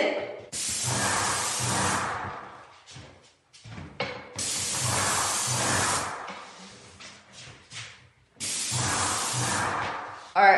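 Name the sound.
paint sprayer spraying ceiling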